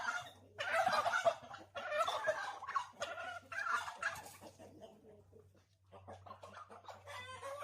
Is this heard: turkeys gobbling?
yes